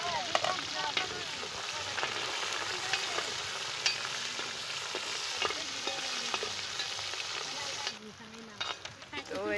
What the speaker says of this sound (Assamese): এতিয়া পিঁয়াজ ভাজি দিছে